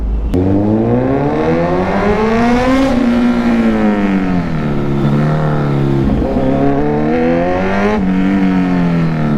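A car engine revs loudly and repeatedly, its pitch climbing and falling in long sweeps, close and unbroken.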